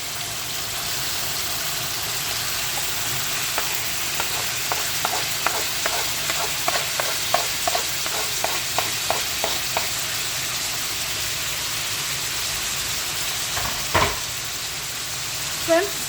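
Chicken and two big chopped tomatoes frying together in a pan for a coconut chicken curry, a continuous sizzle under a run of rhythmic stirring scrapes in the middle, then a single louder knock near the end.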